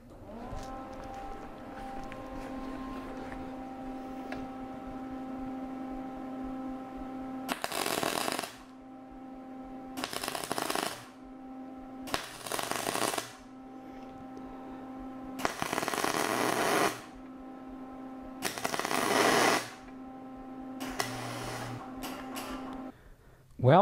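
A MIG welder without a spool gun tacks a piece of aluminum in a run of several short, crackling arc bursts. A low steady machine hum sits between the bursts, and a voice speaks quietly.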